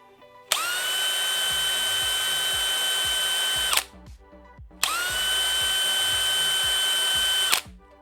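DeWalt DCD998 cordless drill on a Power Stack battery running at speed 3, two steady high-pitched whirring bursts of about three seconds each, close and loud, separated by a short pause with faint background noise and no talking.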